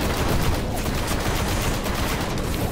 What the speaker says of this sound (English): Guys, stop shooting at me!